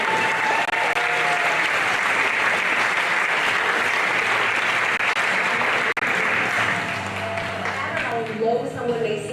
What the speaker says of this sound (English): Feel free to applaud. Go ahead.